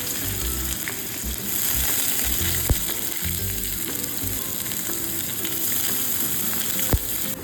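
Garlic dropped into hot oil with bay leaf and whole garam masala, a steady close sizzle and crackle of frying with a couple of sharp clinks from a utensil.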